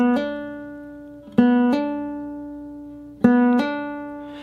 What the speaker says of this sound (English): A hammer-on is when you pluck the string with the right hand finger,